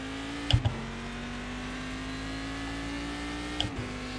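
Racing car engines in a video game, with a Cadillac among them, hold a steady mid-pitched drone throughout, broken by two short thumps near the start and end, with no voices.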